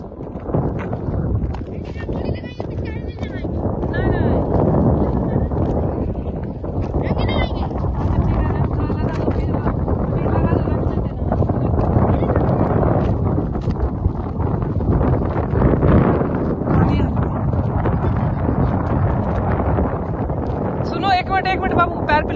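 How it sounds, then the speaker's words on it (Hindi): Strong, steady wind buffets the microphone outdoors on a cold day during a family Holi celebration, a loud continuous rumble with voices talking underneath. "बहुत ज़्यादा हवा चल रही है, ठंड थी बहुत, हवा चल रही है"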